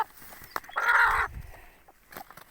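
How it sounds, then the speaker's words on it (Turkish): A nearby broody hen sitting on eggs gives a short, harsh squawking cluck, with a few faint rustles and soft clucks around it. "Bakın kuk kuk kuk kuk kuk yapıyor tavuğum"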